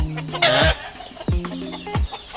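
Backyard chickens cluck in short bursts, with a few sharp calls from a hen or rooster standing out, fairly close and loud with no talking.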